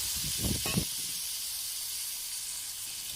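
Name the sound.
water added to frying jackfruit, sizzling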